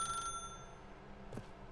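Telephone ringing in the video game The Stanley Parable, a faint electronic ring tone heard briefly at the start, followed by quiet background and a short soft click.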